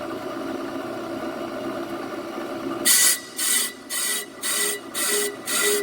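A brake lathe bit makes a scratch cut on a rear brake drum during resurfacing: a steady motor hum, then about six loud, rhythmic rasping scrapes as the drum turns against the bit, close and with no talk.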